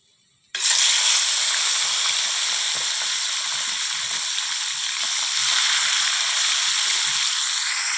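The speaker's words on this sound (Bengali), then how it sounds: "তো চলো চিংড়ি মাছগুলো ভেজে নিই" Prawns hit hot oil and fry with a loud, steady sizzle that starts abruptly after a brief silence and holds throughout, swelling slightly toward the end.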